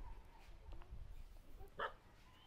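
A single sharp dog bark rings out near the end, a short distance away, after a stretch of quiet outdoor background with faint low rumble.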